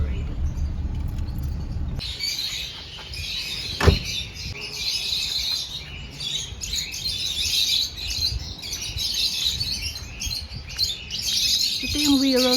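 Canaries at a bird shop in Midland chirp and trill continuously, bright rapid tweets layered over a low engine-like rumble that drops away early, with a brief thump and occasional louder calls.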